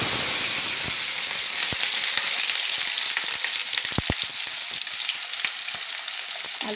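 Cut potatoes fry in hot oil for vegetable khichuri with a continuous, even sizzle and a few sharp clacks of a utensil against the pan, with no voices.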